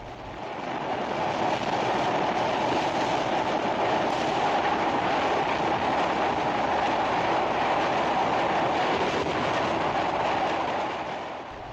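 Passenger train on the Dhaka to Mawa line rolls along the rails with a loud, steady rumble heard from onboard, the continuous roar fading in and out at the edges.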